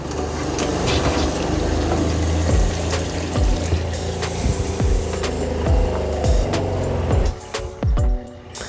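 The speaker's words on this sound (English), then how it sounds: "Let the pump repressurize," An RV water pump runs to repressurize the system, giving a loud, continuous mechanical hum and rattle with repeated knocking pulses, close by, easing off near the end.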